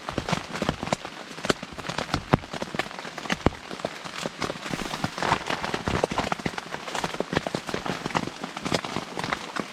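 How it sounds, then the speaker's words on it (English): Light rain falls on a cheap Stansport Scout tent, a dense, irregular drumming of close drops pattering on the fabric throughout, with no talk. "This is not a heavy rain event, not by any means."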